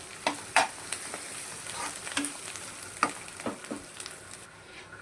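Ivy gourd chutney being mixed in a pan off the stove, with a series of soft, irregular spoon scrapes and clacks over a faint sizzle, no talk.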